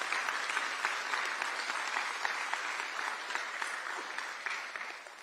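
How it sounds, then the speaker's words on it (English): Audience applause at a check presentation for Texans affected by the July 4th floods, a steady wash of clapping from a moderately sized crowd that fades slightly at the close. "And I think they deserve a round of applause for that."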